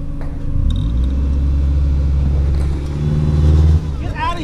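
A car on ordinary road tires, not knobby ones, drives onto X-Bull recovery tracks. The engine revs hard with a loud, sustained rumble, then cuts off abruptly, and a voice follows briefly.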